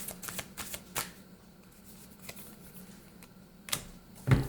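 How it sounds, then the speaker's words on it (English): Tarot cards are shuffled up close, making soft riffling flutters and a few sharper slaps and taps, spaced irregularly over a quiet background. "I want to pull one more card"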